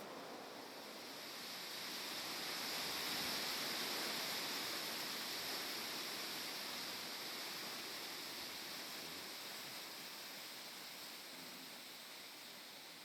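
Rushing water of streams and waterfalls among the grass-covered Mambila hills in Nigeria's Gashaka Gumti National Park, a steady broadband roar that swells slightly mid-way and holds without pause.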